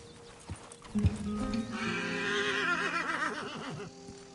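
A horse in the video game Red Dead Redemption 2 lets out a loud, wavering neigh that rises and falls for a few seconds, preceded by a couple of soft thumps.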